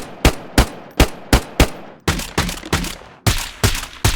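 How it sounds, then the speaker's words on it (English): Suppressed gunshots in DayZ fired from improvised and metal suppressors: a series of sharp, close muffled shots, first five evenly spaced, then a quicker burst with a different, fuller report, loud with no talking. "the improvised suppressor will now sound different to the metal one"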